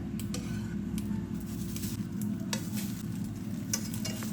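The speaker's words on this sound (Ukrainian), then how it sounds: "смажимо на антипригарній сковороді з обох сторін" Steady sizzling of egg-dipped bread frying in a nonstick pan, close up, with occasional light scrapes and clinks of a utensil.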